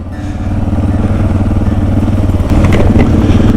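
Adventure motorcycles, including a KTM 690 and a Suzuki DR650, rumble loudly and up close, a steady engine drone with wind buffeting and a slight rise in revs near the end.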